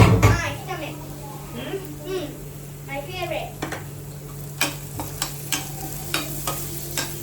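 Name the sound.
onions roasting in a pan for rajma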